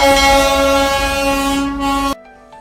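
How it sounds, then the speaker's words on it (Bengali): A loud, sustained horn blares from the Darjeeling toy train with a steady rumble as it passes, then cuts off abruptly, leaving a faint low hum. "এই দেখুন এই টয় ট্রেনটা যাচ্ছে"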